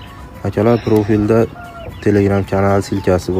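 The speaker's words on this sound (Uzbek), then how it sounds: "Xo'roz shu qichqirishligi Allohga yoqar ekan shu." A Shamo or Pirivaznoy fighting-breed rooster from Andijan crows and clucks close by in several strong, harmonic bursts, while someone speaks over and between the calls.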